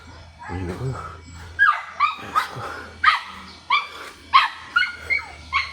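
Several dogs bark in short, sharp bursts at a steady rhythm, fairly close and loud, with a person talking at the start.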